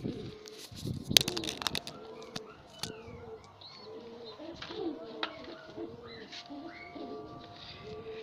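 Pigeons coo in a repeated low murmuring rhythm, with a few sharper bird chirps and a brief rustle near the start.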